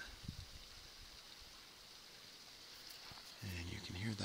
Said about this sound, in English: And you can hear that waterfall,